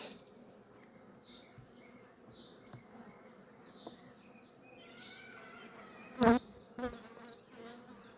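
Honeybees buzzing at an open hive frame with a drone bee among them: a steady, low, close hum that continues throughout, with a couple of sharp knocks near the end.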